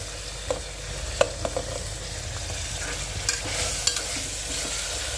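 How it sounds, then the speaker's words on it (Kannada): Peas and capsicum frying in a pan for tomato rice bath, with a steady sizzle and intermittent scraping clicks of stirring, close and alone without talk. "ಒಂದು 2 ನಿಮಿಷ ಅದನ್ನು ಫ್ರೈ ಮಾಡಬೇಕು. ಬಟಾಣಿ, ಕ್ಯಾಪ್ಸಿಕಮ್,"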